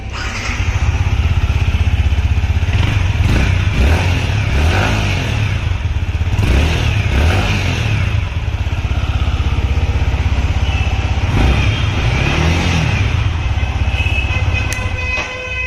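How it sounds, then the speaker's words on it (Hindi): A loud 2023 Yamaha MT-15 motorcycle engine runs steadily with a deep, throaty exhaust rumble, rising in a few revs before settling back to idle. "तो भाई इस तरीके की कुछ एग्जॉस्ट नोट है बाइक की"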